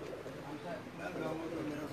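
Pigeons cooing on a rooftop loft, low soft repeated coos under a steady outdoor wash, fairly faint with background voices.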